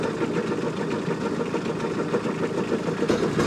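A Kubota RCK60-32 mid-mount mower's engine idles steadily up close, a continuous even running tone with no speech over it.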